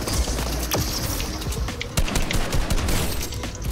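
Rapid bursts of gunfire rattle continuously through a chaotic Fortnite match, dense and loud from start to finish with no talk.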